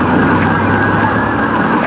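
An emergency vehicle siren, from an ambulance or police car, wails loud and continuous over a steady traffic rumble.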